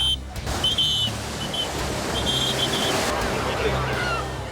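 Ocean surf surges onto Haeundae beach in Busan during a sudden rip-current wave event, a steady broadband roar of breaking water mixed with wind, continuous and fairly loud throughout.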